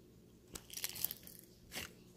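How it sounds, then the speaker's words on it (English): Crunchy slushy bead slime squished by hand, brief close crackling crunches in two short bursts over a quiet room. "it makes all of this kind of crunchy noises."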